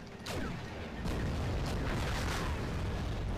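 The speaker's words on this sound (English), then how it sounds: "Let's kind of watch that incoming fire." Artillery shells exploding in the video game Wargame: European Escalation, a series of loud booming blasts over a constant rumbling battle din, with several sharp impacts close together.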